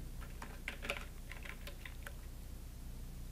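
Quiet, close keystrokes on a computer keyboard tap out a short burst of typing while a tool name is entered into a search box, over a low steady hum.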